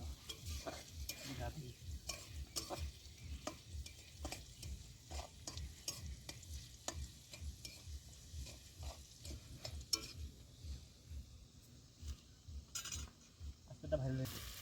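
Spice masala for chicken curry fries in a pan at an outdoor riverside picnic. A spatula scrapes through it in steady repeated strokes over a faint continuous sizzle, all quite soft.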